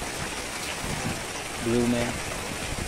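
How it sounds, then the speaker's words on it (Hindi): Heavy rain pours down beside sacks of solid chemical in Gujarat, a steady broadband hiss, while a voice speaks briefly over it. "बारिश इतनी तेज है"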